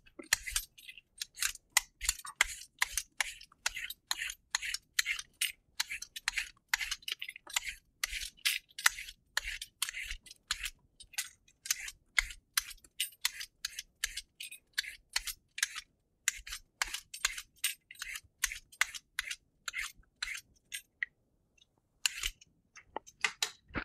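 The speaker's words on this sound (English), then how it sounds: "I'm going to quickly just peel it over my sink" A raw sweet potato peeled over a kitchen sink: quiet, rapid rasping scrapes of a peeler, repeated in a steady rhythm of short strokes close by, with brief pauses and no talking.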